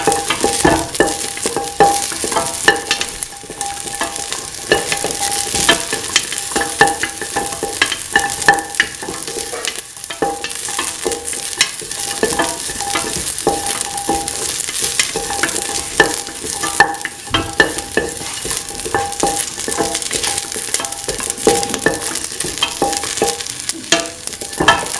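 Kidney beans and green peas stirred and mixed in a hot pan, giving a continuous close sizzle with a steady scraping, clattering rhythm throughout.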